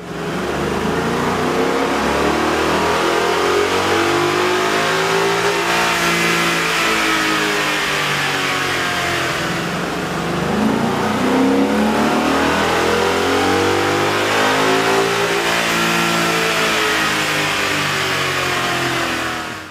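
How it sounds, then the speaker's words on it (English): A Ford Mustang GT fitted with a K&N 63 Series Aircharger cold air intake revs on a dyno, its engine holding a loud, continuous roar with pitch sweeping up and down in long rises and falls for nearly twenty seconds, no voices. "we ran the vehicle on the dyno to test the sound comparison versus the stock intake"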